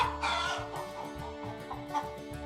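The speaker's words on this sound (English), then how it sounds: "The chicken says cluck, cluck." A chicken clucking in a steady series of short, close, fairly loud clucks at a regular rhythm, with no talk over it.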